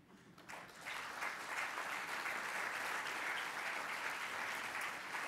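An audience at a French business conference, the Assises 2011, breaks into steady, full applause for an IBM keynote speaker, building within a second and sustaining dense clapping throughout.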